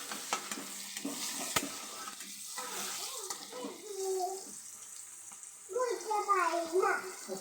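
Onions frying in a pan for a dried-fish (shutki) curry, a soft steady sizzle with scraping stir strokes that come and go, while someone talks over much of it.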